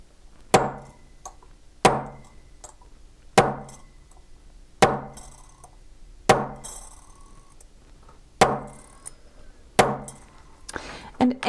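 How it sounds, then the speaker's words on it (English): A hammer strikes a steel period stamp into sheet metal while stamping decorative borders on a metal lily piece, eight sharp ringing metallic blows at even intervals of about a second and a half, close and alone. "I like to run through with the period stamp again"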